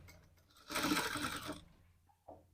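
A sewing machine stitches a folded seam on the wrong side of the cloth. It runs in one loud mechanical burst of about a second, then a brief softer whir follows.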